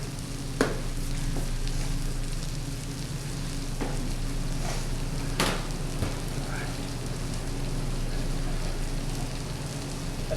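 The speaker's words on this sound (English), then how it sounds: "That chicken's starting to sizzle a little bit." Steady sizzling and crackling of chicken frying in a pan for tikka masala, a continuous hiss with occasional sharper pops and spatters.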